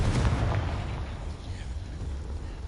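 A Confringo fire-blast spell from Hogwarts Legacy goes off in a loud, booming burst near the start, then rumbles on as a sustained low explosive roar through the rest of the moment.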